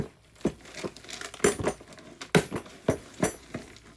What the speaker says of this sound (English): Then I like to use this garden trowel to go in and stir everything up.